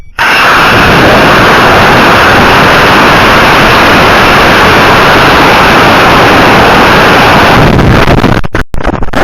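A model rocket of the ULA Vulcan on an E12-4 motor roars continuously, loud and close, with a harsh broadband rush and wind buffeting that cuts off abruptly near the end.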